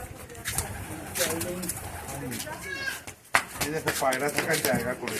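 Pigeons coo from nesting holes built into a mud house in a small village near Santiniketan, soft throaty calls heard close by while people talk over them throughout.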